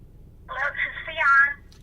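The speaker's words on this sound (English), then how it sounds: "Let's see if we can get Phionne on the phone" Telephone ringing during an interview call, a single electronic ring burst lasting about a second, clear and close against quiet background.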